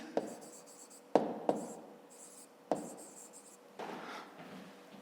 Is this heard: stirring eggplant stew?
no